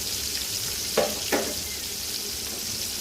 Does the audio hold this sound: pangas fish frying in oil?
yes